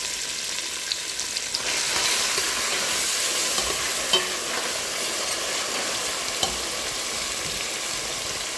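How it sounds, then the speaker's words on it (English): Cooked egusi seeds fry in palm oil over low heat for Nigerian egusi soup, a dense continuous sizzle with a few soft stirring scrapes, close and fairly loud, with no talking. "The already cooked egusi, you have to fry it together into the palm oil."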